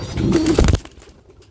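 Jalali pigeons kept in baskets on a rooftop farm coo in a loud, low murmuring burst up close, fading after about half a second into quiet background.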